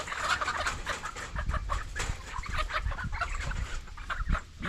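Seven-week-old chickens cluck steadily in a busy, close chorus of overlapping short calls, with no talking.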